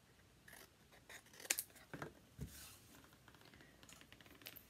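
Scissors or an X-Acto knife cut paper box lids in half for a Cricut craft project, giving a few quiet, scattered snips and crisp rustling strokes, close but faint, with no talking.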